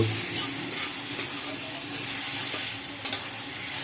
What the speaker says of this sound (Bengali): লাল শাক পাতা বড়ি ভাজা